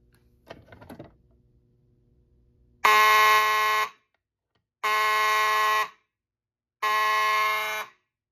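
After a few faint clicks, a loud alarm horn from a Simplex 4001 fire alarm panel walk test blares three times, each about a second long with equal gaps between.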